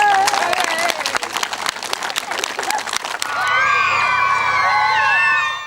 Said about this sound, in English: At Dinas, just down the line, there were more crowds, more applause